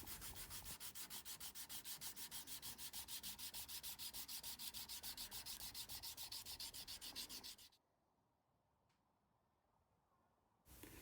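A steel chef knife blade is hand sanded with sandpaper in a steady, rapid back-and-forth rasping rhythm, close and loud, before the strokes stop and a quiet pause follows, with one brief stroke returning at the end.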